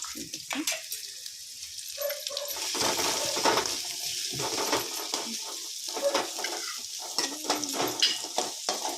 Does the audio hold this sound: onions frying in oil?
yes